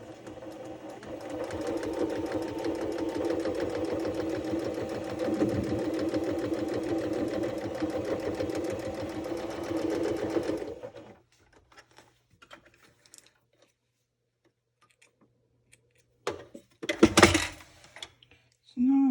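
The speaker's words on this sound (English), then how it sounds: "And then we'll sew it around the outside edge here." A sewing machine stitches fabric for a bunny-shaped Easter pillow in a steady, close whirring run for about ten seconds, then stops, followed by quiet handling clicks and rustles.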